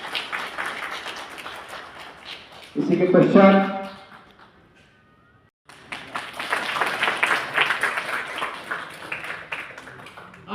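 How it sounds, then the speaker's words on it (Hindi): Crowd at a Constitution council gathering at the Babasaheb convention center on Kamptee Road bursting into applause after a speaker's voice, many hands clapping loudly for about a second before fading, then the speech resumes. "एक जोरदार तालियां होनी चाहिए"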